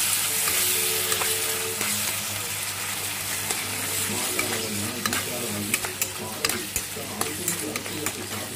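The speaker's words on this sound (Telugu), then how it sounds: "ఇప్పుడైతే ఇంకా అల్లం వెల్లుల్లి పేస్ట్ వేస్తాము. అది కూడా వేసి బాగా కలుపుకోండి" Ginger garlic paste fries in hot oil while a spoon stirs it around the pan, a steady sizzle broken by scraping and clinking taps that grow more frequent toward the end.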